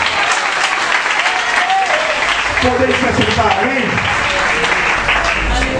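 A church congregation applauds during an evangelical worship service, dense clapping and crowd noise filling the room while someone speaks over it near the end.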